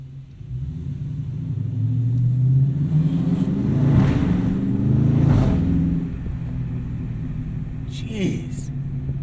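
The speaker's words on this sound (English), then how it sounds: "that's some quality muscle car noises right there" A 2020 Dodge Charger 392 Scat Pack Widebody V8 revs inside a parking garage, with a deep, echoing rumble that climbs through two strong swells before settling back to idle, and someone talks over it.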